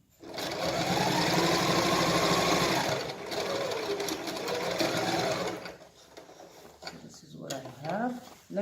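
A sewing machine stitches fabric for a circular bow, running loud and steady for several seconds with brief changes in pace before it stops. Talking follows the stitching.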